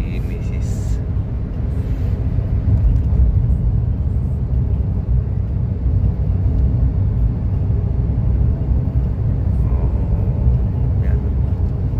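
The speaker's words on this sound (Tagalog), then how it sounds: "Grabe ng traffic sa atin, no, pag ganito na." Heavy morning road traffic, a dense steady rumble of cars and buses passing close by, continuous and loud throughout with no clear breaks.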